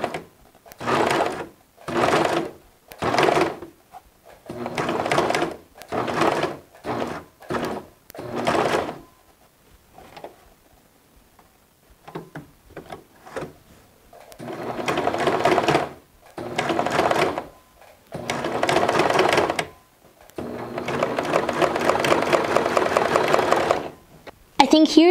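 A serger stitches an invisible hem in short, close, loud runs that start and stop repeatedly, then longer continuous bursts toward the end, with quiet pauses between runs.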